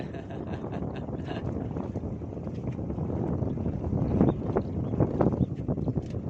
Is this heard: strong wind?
yes